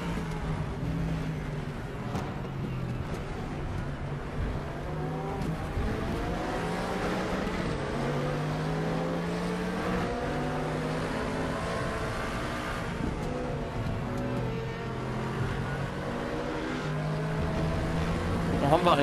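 A Mercedes-Benz SLS AMG GT3 racing at Monza in RaceRoom, its engine droning steadily with rising and falling pitch through gear changes, loud and continuous while someone talks over it.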